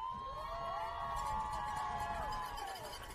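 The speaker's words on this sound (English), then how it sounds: "those are our fans you hear cheering our boys on as our offense comes back out onto the field" A large crowd of football fans cheers at a wet-weather Cougars game, a steady roar held for a few seconds. Whistle-like tones and shouts rise above the distant crowd.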